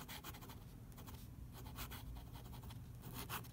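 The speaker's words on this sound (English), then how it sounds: "Noodler's Ahab. Good pen. You can write with it every day." Noodler's Ahab fountain pen nib scratching across paper, a soft, steady rustle of strokes with faint rhythmic pulses as the hand moves, heard alone and fairly quiet.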